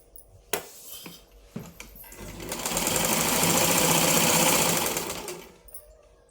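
A sewing machine stitches a lined blouse in a rapid continuous whir that swells up and fades, set off by a few sharp clicks and knocks before the run.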